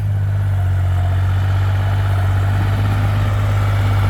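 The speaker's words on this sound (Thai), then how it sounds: "งานดันดินให้ดูกันต่อ เต็มใบดัน" A Kubota L1-24 tractor pushes soil with its front blade at a full blade load, its engine a steady, loud, low drone that holds an even pitch throughout.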